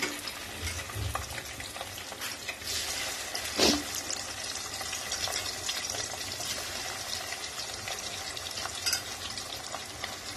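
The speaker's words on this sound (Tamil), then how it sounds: "இது நல்லா ஒரு 5 நிமிஷம் நல்லா திருப்பி போட்டு நல்லா ஃப்ரை பண்ணி எடுத்துக்கோங்க" Cauliflower 65 frying in hot oil in a home kitchen: a continuous, fairly soft sizzle and bubbling with one sharper burst of stirring or spattering early on, no voices.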